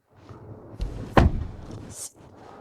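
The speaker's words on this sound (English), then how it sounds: "Let's do it again, the back door sound." The rear door of a Leapmotor C10 SUV swings shut with one solid, close slam, followed by a brief fading rattle and quiet.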